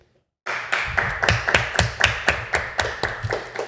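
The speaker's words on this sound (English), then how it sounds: "Put your hands together and clap." An audience starts clapping abruptly after a moment of silence, then keeps up a rhythmic, fairly steady beat of sharp claps, close and loud, with no talking over it.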